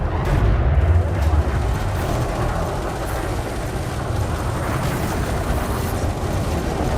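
Spaceship cannons and missiles firing in the game Elite Dangerous, a dense, loud, continuous rumbling barrage of booms and blasts with no breaks.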